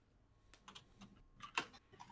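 Quick, scattered keystrokes on a computer keyboard, a short burst of close clicks ending in one sharper tap, quiet and with no voices.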